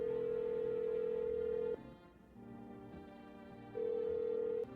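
Video game telephone ringback tone while dialing a new number, a steady electronic tone lasting almost two seconds, a pause, then a second shorter ring.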